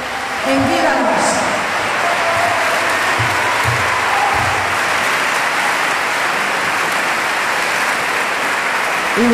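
Sustained applause from a charity concert audience in Cartagena for the Guardia Civil music unit of Madrid, a loud continuous wash of clapping with faint voices at the start.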